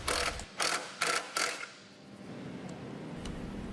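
Ratcheting on 3.5-inch carriage bolts, nuts and washers fastening a picnic table brace to the tabletop, four quick clicking bursts close up, then a quieter mechanical rasp.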